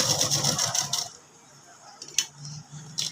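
A sewing machine stitches a chudidhar in a short, rapid run of needle strokes for about a second, then falls quiet apart from a few faint clicks and handling sounds close by.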